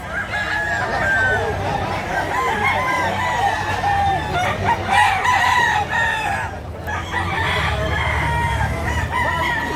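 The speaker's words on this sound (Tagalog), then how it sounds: "native manok yan" A native chicken rooster crows repeatedly, loud and close, with clucking fowl and farmyard bird noise continuing throughout.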